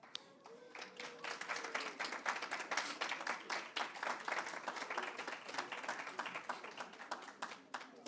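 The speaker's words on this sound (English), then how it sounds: "Another round of applause." An audience applauds the winning team at a high school debating competition final: dense, sustained clapping that builds and holds for several seconds, with faint voices underneath.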